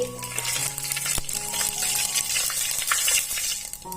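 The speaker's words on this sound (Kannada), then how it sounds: "ಫ್ರೈ ಆಗಲಿ." Whole cinnamon, cardamom pods and cumin seeds fry in hot oil in a pan, giving a steady, close sizzle with a few soft stirring clinks and no talk.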